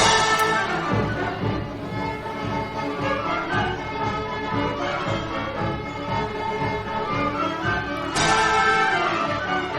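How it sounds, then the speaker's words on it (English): An amateur orchestra plays a classical piece with sour tuning and ragged ensemble, strings and winds clashing continuously throughout, with a loud accented swell near the end. "it sounds like everyone in this orchestra does not know how to play their instruments."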